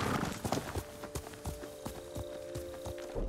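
A horse called in the Ghost of Tsushima video game gallops up, with rapid repeated hoof clip-clops at a moderate distance over a soft background.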